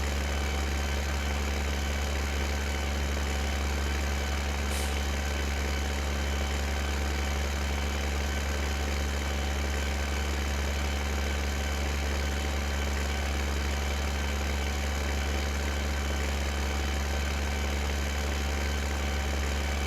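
A tractor engine idles in the Farming Simulator 15 video game, a loud, unbroken, low droning hum that holds steady for the whole stretch with no voices.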